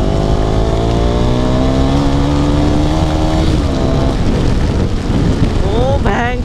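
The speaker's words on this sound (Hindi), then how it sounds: "ओ भयंकर बारिश" Heavy rain hisses steadily throughout, with a motor engine droning and shifting pitch underneath; a voice briefly calls out near the end.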